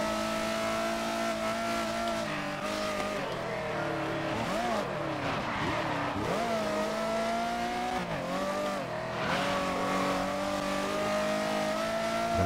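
Racing cars in GRID, among them a Ferrari 512 BB LM, roar past at high speed with engines revving and shifting pitch, a steady loud drone of several cars close together.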